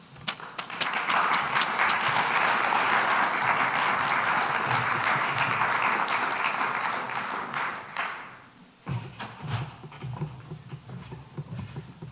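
Loud, sustained applause from a lecture audience greeting a speaker, steady for about eight seconds before tapering off, then a few scattered claps and rustling.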